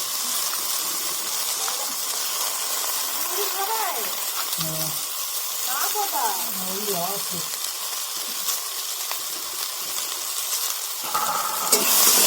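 Ginger garlic paste sizzles steadily in a hot pan while being stirred, a continuous frying hiss with occasional scraping, as a voice talks intermittently over it.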